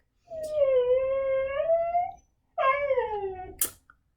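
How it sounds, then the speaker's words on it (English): Huskies howl in two drawn-out, wavering calls close by, the first long and steady, the second rising then sliding down into a whiny cry, with a short pause between. "If you own huskies, you understand my pain right now, because they don't want to shut up"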